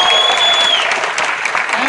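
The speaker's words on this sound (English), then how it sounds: "give these guys a huge round of applause" Loud, dense applause from a theatre audience fills the whole moment, a continuous wash of many hands clapping close by, with a whistle piercing through near the start.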